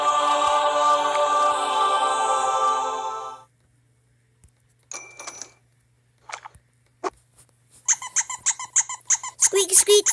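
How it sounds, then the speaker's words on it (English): Repeated high squeaks come from the game Beat the Boss 3. A long sustained squeal opens the clip, followed by sparse short chirps, then a rapid, rhythmic burst of squeaks at the end. "Squeak, squeak, squeak,"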